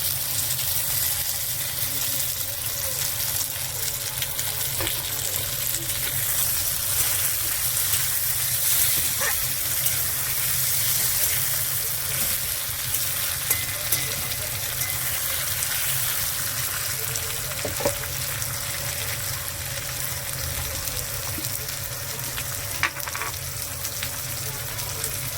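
Chopped tomatoes sizzle in a frying pan, a continuous loud hiss with a steady low hum beneath it and a few faint clinks, no talking.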